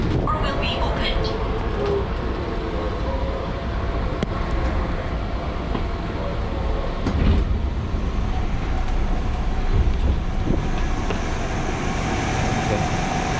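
Commuter train at Manggarai transit station in Jakarta, with a steady broad rumble of rolling stock and station noise throughout, a louder swell near the middle, and faint voices mixed in.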